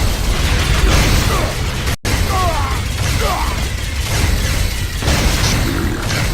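An enemy orb blows up in Unreal Tournament III, a loud, dense burst of mechanical clanks and booming noise that runs almost continuously, broken by one brief dropout.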